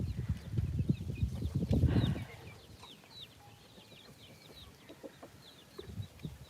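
Chickens clucking in short, scattered calls against a quiet outdoor background, with a louder rustling burst near the start.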